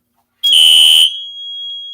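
A fire alarm sounds after a 2400 detector is tripped with a screwdriver: a loud, piercing electronic tone starts abruptly, holds for about half a second, then drops to a quieter steady tone that lingers.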